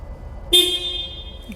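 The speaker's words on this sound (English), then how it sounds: "Okay, and your city horn." A truck's city horn sounds once during a roadside DOT inspection, a short, loud, close honk that rings on and fades over about a second.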